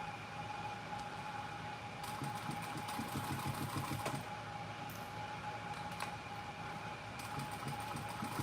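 Steady mechanical whirr of a sewing machine stitching a leather bag, running continuously at an even pace with faint rattling bursts, close and alone without talk.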